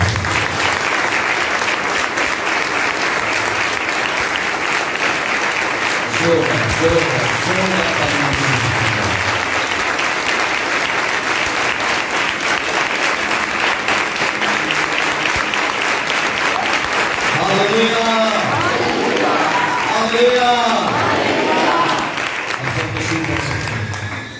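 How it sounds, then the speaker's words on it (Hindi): A church congregation claps loudly and steadily for Jesus Christ at a pastor's service, a dense sustained wash of applause lasting throughout, with a few voices and cheers rising faintly beneath it in the second half. "यीशु मसीह के लिए जोरदार ताली"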